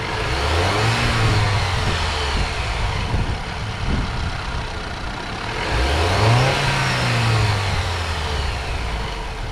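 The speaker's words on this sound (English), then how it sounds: "here's a quick little rev test of the stock setup. Listen for the lack of blow-off valve or exhaust flutter" A stock Alfa Romeo Giulia turbo engine revs twice without a blow-off valve, each rise sweeping up loudly and falling back to a steady idle, heard close with no talking.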